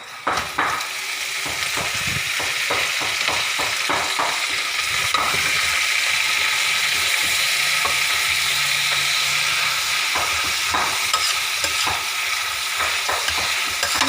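Vegetables, including Chinese cabbage, stir-fry in a hot pan with a loud, continuous sizzle and the rapid scrape and tap of a utensil tossing them.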